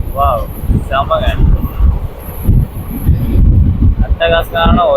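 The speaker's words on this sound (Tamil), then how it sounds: "அட்டகாசமான ஒரு ரயில் பயணம்." Onboard rumble of a passenger train running along a hillside route toward Bengaluru, a steady low roar with wind buffeting, while voices talk over it in bursts.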